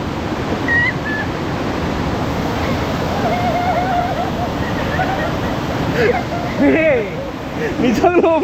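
Rushing waterfall water at Sakleshpura, a steady dense roar running throughout, with people talking and calling out over it, the voices louder near the end.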